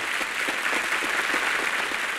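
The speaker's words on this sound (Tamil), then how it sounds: "விசுவாசிகளை கைதட்டு" An audience claps steadily at a Christmas special Tamil debate (pattimandram), a dense, even wash of applause from a crowd that holds at the same level throughout.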